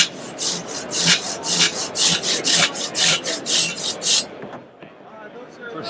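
A Silky hand saw cuts through a light poplar log about four inches thick, giving about eleven loud, rhythmic rasping strokes up close before the cutting stops and the sound drops away.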